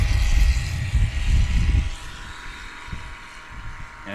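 Zenith STOL light aircraft flying at a Swamp STOL practice in Jennings, Louisiana: a loud, rumbling propeller-engine roar for the first two seconds, then fading to a quieter, distant drone.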